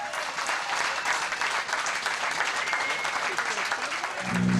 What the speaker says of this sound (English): soak up the champagne applause from his team after his first home win